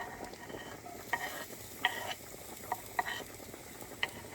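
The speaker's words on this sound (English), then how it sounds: "Throw in the garlic." Garlic fries in a pan inside a small van kitchen, with a soft continuous sizzle broken by several sharp clicks and scrapes of stirring utensils; no one speaks.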